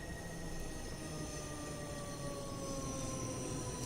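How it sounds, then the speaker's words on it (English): A train pulls into a station in the Train Sim World 2 video game, set on the Glasgow Cathcart Circle, with a steady rumble and faint high squealing tones running continuously, no voices heard. "Another train coming in."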